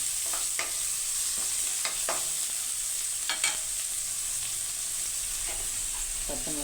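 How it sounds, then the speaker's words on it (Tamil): Red amaranth greens sauté in a pan with a steady soft sizzle, broken by several scraping stirs of a spatula at irregular intervals, fairly quiet and close. "சும்மா லைட்டாக வதங்கினா போதும் ரொம்பவும் வதங்கினா நல்லா இருக்காது"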